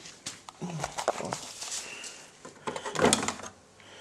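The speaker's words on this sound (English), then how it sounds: "So wait, I can shut the door." The door of a Whirlpool AWM8143 1400rpm front-loading washing machine is pushed shut, a few soft clunks and a firmer latch thud near the end, close by in a quiet room.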